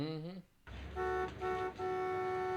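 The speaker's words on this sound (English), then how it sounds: "You tell him to stop beeping that fucking horn" A car horn blares in long sustained honks, loud and close, with a brief break between blasts and a low engine rumble underneath.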